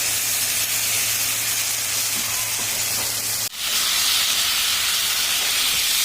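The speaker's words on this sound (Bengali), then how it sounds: "মশলাটা দিয়ে ভালো করে আমি কষিয়ে নেব।" A paste of ginger, cumin, green chilli and dried chilli sizzles loudly in a pan with fried banana and potato, a dense steady hiss broken by one brief dip midway, with no voices.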